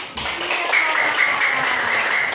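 A class of pupils claps their hands together in a classroom, a steady patter of clapping mixed with children's voices.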